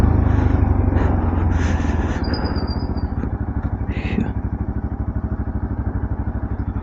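A motorbike climbing a steep off-road slope, its engine a loud, close, rhythmic chugging thump that slows into steady low pulses, with brief rattles and a passing high whine.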